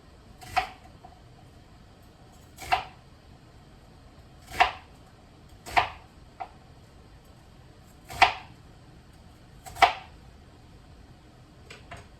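A knife chops through an onion on a cutting board in a home kitchen. Seven sharp, isolated knocks come at irregular intervals of one to two seconds over a quiet background.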